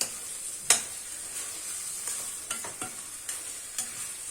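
Grated carrot halwa (gajrela) fries in ghee in a kadhai, a steady sizzle broken by repeated scraping strokes of a spoon stirring, close and without talk.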